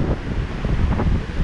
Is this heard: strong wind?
yes